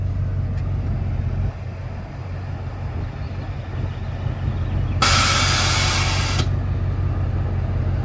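Air ride suspension on a 2003 Mustang lowering to ride height, heard as a loud, close burst of hissing air lasting about a second and a half over a steady low hum.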